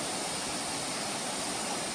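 Waterfall on Little Andaman, heard as a steady, dense broadband roar of falling water, loud and unbroken throughout, with no voices.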